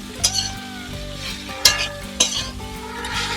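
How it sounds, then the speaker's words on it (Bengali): Amla pickle ingredients with beet salt and Kashmiri chilli powder stirred in a pan, a continuous sizzle with a few sharp scraping clinks of the spoon spaced out over a few seconds. No one speaks. "সবকিছু দিয়ে একটু নাড়াচাড়া করে দেব"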